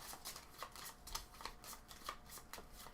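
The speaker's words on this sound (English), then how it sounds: "you will take all of your cards and shuffle them" A deck of board game cards for Lost Ruins of Arnak is shuffled by hand, giving a quick series of crisp riffling snaps and soft flutters, close and fairly quiet, with no talking.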